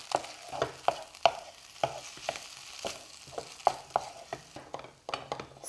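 A spiced tofu scramble cooks in a pan with a soft sizzle broken by repeated clicks and scrapes from stirring, close and moderately quiet with no talk.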